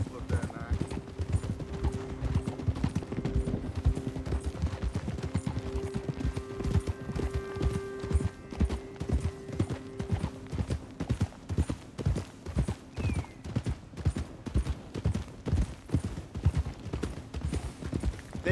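Horse hooves clip-clop steadily in Red Dead Redemption 2, a continuous rhythmic trot heard close under ongoing conversation between voices, with a brief neigh-like tone in the middle.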